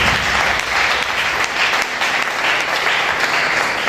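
A church congregation applauds in praise of the Lord Jesus, a loud, dense, steady clapping that fills the whole stretch without pause.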